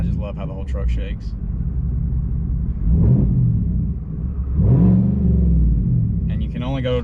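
A truck engine with a modified exhaust, revving in neutral up to a 3,000 rpm limit. A deep, steady rumble swells in two strong rev surges with the body shaking, and voices talk briefly at the start and end.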